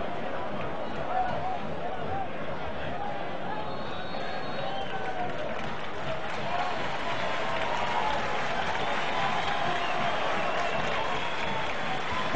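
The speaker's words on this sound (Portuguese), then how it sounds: "E hoje vai ser aplaudido pelo torcedor do Palmeiras." Palmeiras supporters applaud as a substitute comes on during a 2010 Campeonato Paulista match against São Paulo, a steady, dense crowd roar and clapping filling the stadium throughout.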